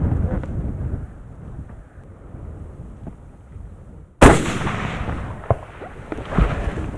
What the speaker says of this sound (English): That was a good shot. That hit him.